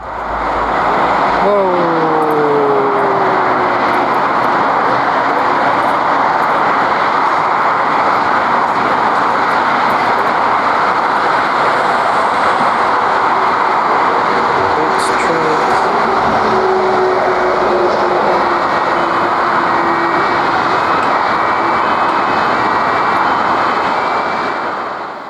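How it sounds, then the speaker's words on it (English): A Lufthansa Airbus A320 with an engine failure gives a long, loud jet roar on takeoff. A whining tone slowly falls in pitch throughout, and a voice briefly exclaims over the din. "First up is this Lufthansa Airbus A320 that suffered an engine failure."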